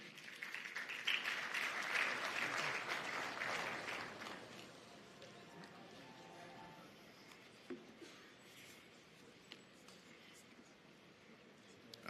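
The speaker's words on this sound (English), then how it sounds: "please give him a round of applause" Applause from a conference audience at a bank's annual meeting greets a speaker taking the stage, a dense wash of clapping loudest over the first four seconds, then thinning to scattered claps under quieter room noise.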